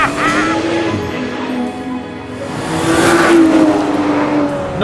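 Aston Martin Vanquish V12 grand tourer with 824bhp, its deep rumbling engine swelling and easing as revs climb, a loud steady roar that surges again toward the end.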